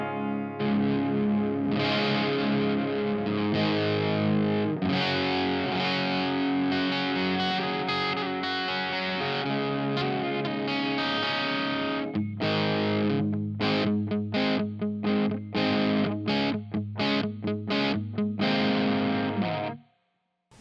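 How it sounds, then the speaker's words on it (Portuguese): Electric guitar through a Boss HM-3 Hyper Metal distortion pedal with the gain at zero, still heavily driven. Sustained distorted chords ring out, then give way to choppy, rhythmic palm-muted strums before stopping abruptly. "Ganho zerado, ele já vem drive pra caramba."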